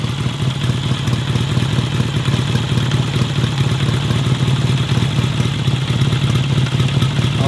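A 72-year-old British Ariel motorcycle engine idles steadily, loud and close, with an even mechanical clatter and no talking.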